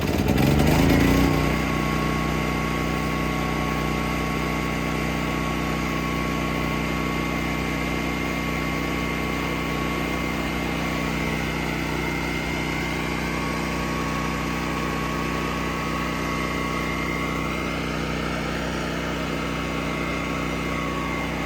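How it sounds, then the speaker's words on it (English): A Generac 9200W portable generator runs steadily at a constant pitch, heard from about ten feet away after a brief louder start, with a droning engine hum that holds for the whole stretch. "We're gonna start it up, and I've got a decibel reader right by the camera so we can see how loud this generator is"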